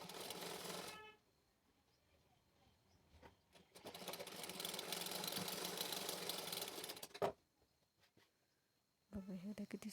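A sewing machine runs in bursts while stitching a blouse back-neck design, with a long steady run in the middle and shorter starts before and after, close and fairly loud with quiet gaps between.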